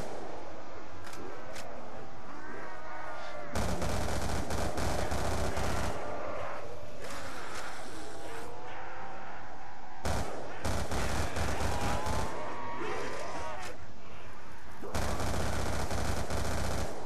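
Rapid gunfire in a zombie survival mode of a shooter game, a semi-automatic gun fired fast enough to sound automatic, in dense repeated bursts over a steady game soundscape with a voice talking at times.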